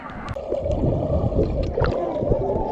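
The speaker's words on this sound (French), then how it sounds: "ce sont les vagues." Waves in a water park wave pool near Barcelona, churning and splashing continuously with gurgling water, close and fairly loud, with faint voices in the background.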